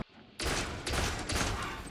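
Weapon fire from a ship in the space game Elite Dangerous, aimed at a crystalline cluster near a geyser: a few loud, close bursts of broadband gunfire in quick succession, each sustained and roaring, with no talk over them.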